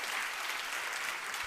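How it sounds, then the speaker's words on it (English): Applause from the audience at a women's investment summit: a brief, dense burst of clapping that is fairly faint and even, with no voices on top. "Give her a huge round of applause"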